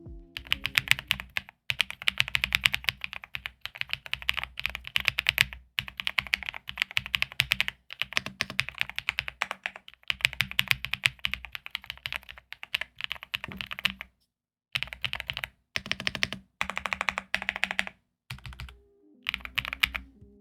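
A Royal Kludge R87 Pro mechanical keyboard with matcha switches is typed on in steady fast bursts of close, crisp keystrokes, with brief pauses between runs and no voices.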